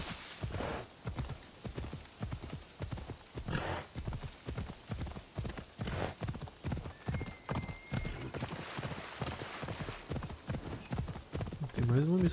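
A horse's hooves clip-clop in the video game Assassin's Creed Odyssey, in a steady, rhythmic trotting beat that continues throughout at moderate loudness, with voices talking over it.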